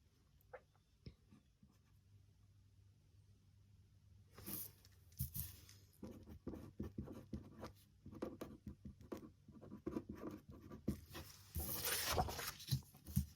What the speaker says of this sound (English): So again, lots of writing.